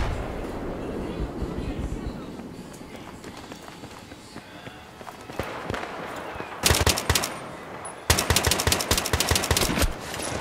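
Rapid bursts of gunfire in the video game Battlefield 3 rattle out in two long volleys near the end, after a stretch of running footsteps and background noise.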